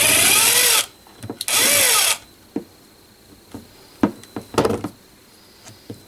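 An impact wrench removes fuel pump bolts in two loud whirring bursts, each under a second, followed by scattered clicks and knocks as the tool and parts are handled.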